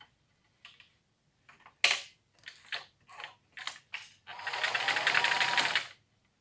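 A sewing machine stitches dori for a saree blouse, starting with several short separate bursts of needle clatter and then running in one longer continuous whir near the end.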